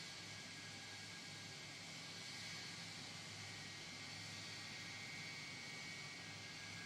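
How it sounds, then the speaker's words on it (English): A simulated MD-80 airliner taxis in X-Plane 11, its jet engines holding a steady, faint whine and hiss with no change in pitch. "Got an MD-80 pulling up here to the left"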